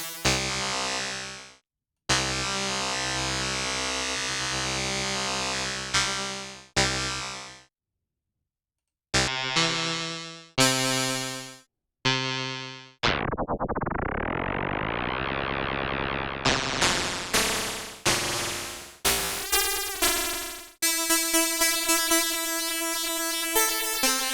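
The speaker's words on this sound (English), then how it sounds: "Get some really crazy tones right off the bat by having multiple modulators going at the same time." A synthesizer using phase modulation with several modulators running at once, in a ring-modulation patch, plays loud, harsh, buzzing held tones. They stop and start abruptly, with one long falling-then-rising pitch sweep and a flurry of short stabs near the end.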